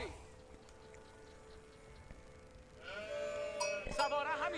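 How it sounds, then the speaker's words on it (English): Sheep bleating in the Age of Empires IV strategy game, faint at first over game background, then several wavering bleats rising louder near the end. "Hey, we're picking up our first sheep"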